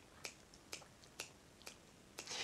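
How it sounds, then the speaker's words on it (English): Five sharp finger snaps ring out alone at a slow, roughly one-per-second pace, close and crisp, separated by quiet gaps. "I can snap my fingers at 60 beats per minute, or 1 hertz"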